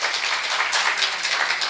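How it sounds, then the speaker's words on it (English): A congregation claps for game show contestants at a church service, a short burst of dense, steady applause that fills the room with no voices over it. "let's give a big round of applause for our contestants"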